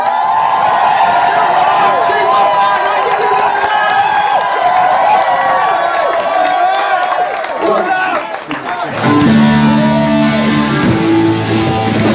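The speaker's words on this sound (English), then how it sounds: "start your clapping and cheering" Concert audience clapping and cheering before a band performance, a dense, loud wash of crowd noise and whoops that runs continuously, then gives way to music near the end.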